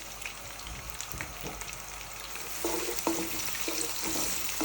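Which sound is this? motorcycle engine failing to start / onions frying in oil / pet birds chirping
onions frying in oil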